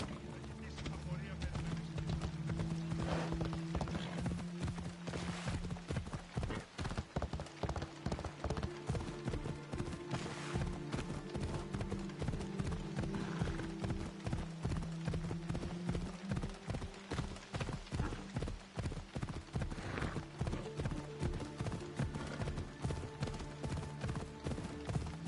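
Horse hooves clip-clop in a fast, steady galloping rhythm throughout a stretch of Assassin's Creed Odyssey gameplay, with music or ambience beneath and a rider's shout briefly over it.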